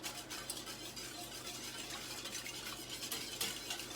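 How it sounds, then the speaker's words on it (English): A spoon stirs sugar and spices into pickle brine warming in a pot, a soft continuous swishing and light scraping with faint low hum beneath, steady and close for a few seconds. "We'll go ahead and give this a quick stir."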